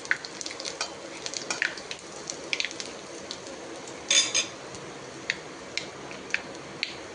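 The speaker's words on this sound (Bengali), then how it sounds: "আদা কুচি" Chopped ginger fries in a pan, giving a faint, steady sizzle. A utensil scrapes and clicks against the pan at irregular intervals while it is stirred, with one louder clatter midway. No voices.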